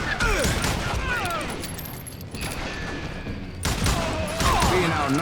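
Gunfire in the Western shooter Call of Juarez Gunslinger comes in dense, loud bursts of shots with crashes and impacts. The volume dips briefly, then swells again into heavy shooting.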